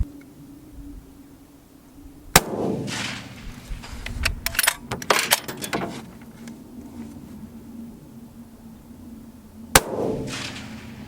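Two sharp rifle reports from a backpack sniper rifle fired off a tripod, spaced several seconds apart, each a crisp crack followed by a short rolling echo, with handling clatter between them.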